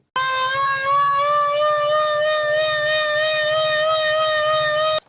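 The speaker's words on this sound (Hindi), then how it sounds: "ये सायरन चल रहा है आजकल।" A loud warning siren in Pakistan holds one steady, piercing tone for about five seconds, then cuts off abruptly.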